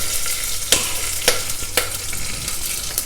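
Mustard seeds, cumin seeds, dry red chillies and slit green chillies sizzle in hot oil, a loud continuous frying hiss punctuated by three sharp pops or stirring clacks, no voices.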